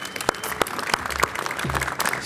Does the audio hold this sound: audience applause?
yes